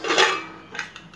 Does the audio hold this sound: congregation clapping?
no